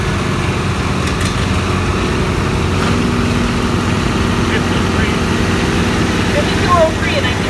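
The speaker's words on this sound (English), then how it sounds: "5203, a 1941 Minneapolis Police Tractor" A 1941 Minneapolis tractor rolls along in a parade, its engine a steady low idling rumble that runs throughout, with people talking over it.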